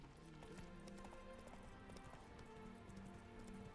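The horse Roach in The Witcher 3 trots with steady rhythmic clip-clop hoofbeats over a continuous game soundscape, sounding close and even, with no one speaking over it.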